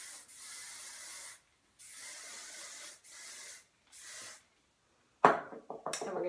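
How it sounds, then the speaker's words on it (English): Four long hissing sprays of hairspray from an aerosol can onto short curled hair, evenly spaced with short pauses, followed by a few brisk rustling handling sounds. "Go through with my favorite hairspray, spray to mold."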